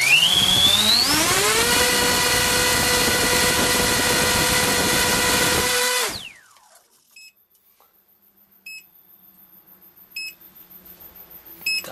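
Electric motors on a tricopter run under power and draw heavy current, with the left motor losing power. A loud, steady, rising whine holds for about six seconds, then cuts off abruptly. Quiet follows, broken by a few faint, short beeps.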